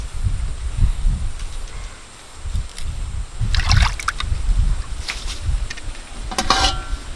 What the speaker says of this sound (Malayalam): ഇത് കഴുകിയെടുക്കുകയാണ് മത്തി